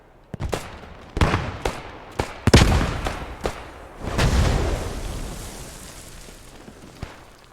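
Grenade launcher blasts in a competitive online video game match: several sharp, loud bangs in quick succession, followed by a longer, rolling explosion that rumbles and fades.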